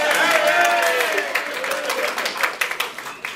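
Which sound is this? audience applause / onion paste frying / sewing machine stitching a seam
audience applause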